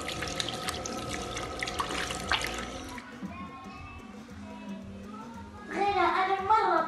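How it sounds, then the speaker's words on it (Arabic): Tap water runs steadily into a sink during handwashing with soap, a continuous splashing hiss that stops partway through and gives way to someone speaking. "ثم نغسل أيدينا بالماء والصابون."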